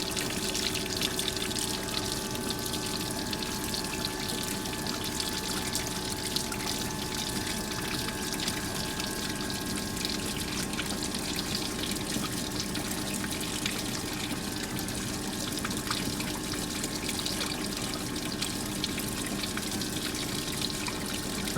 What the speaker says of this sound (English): let's let the water settle in the piezometer